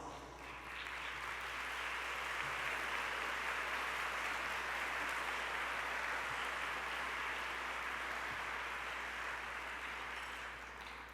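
At an annual tourism meeting and awards event in St. Louis, the crowd applauds airport team members with a steady, even round of clapping that fills the room for about ten seconds, heard from a distance with no talk.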